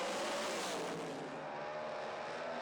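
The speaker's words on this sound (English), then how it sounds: "The quickest pass ever recorded in a nitrous-fed machine" A nitrous-fed drag racing car roars down the strip on a pass, a loud broadband engine blast that sweeps and fades as it moves away.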